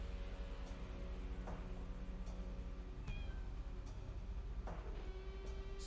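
Repeated short meows from a cat in the Deponia video game, spaced a second or so apart over a quiet, steady background hum, soft and fairly close.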